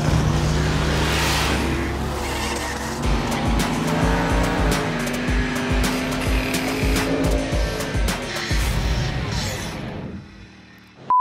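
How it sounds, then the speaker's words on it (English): A farm truck launches against a Camaro at a street drag race, engines roaring loud and close with tire squeal, then the sound fades as the cars pull away. "Truck left hard, man. That Camaro didn't have nothing for it."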